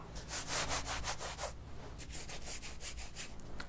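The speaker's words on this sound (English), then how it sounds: "too many loud fabric sounds. As you can see, the difference here. This is a waxed canvas." Stiff waxed canvas hunting clothing rubs back and forth in quick scratchy strokes, close and fairly loud, with a brief pause midway before the rubbing resumes.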